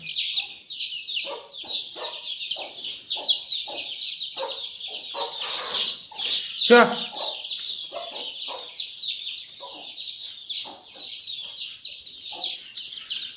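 A free-ranging black village hen and her chicks make constant close clucking and busy high chick peeping, with a brief louder burst of flapping or scuffling midway.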